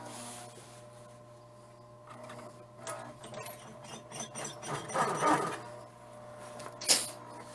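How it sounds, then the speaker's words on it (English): Sewing machine stitching a leather tennis bag during restoration, a quiet mechanical whir with short bursts of rapid stitching that grow louder midway and a sharp clack near the end, heard alone without speech. "We are once again stitching."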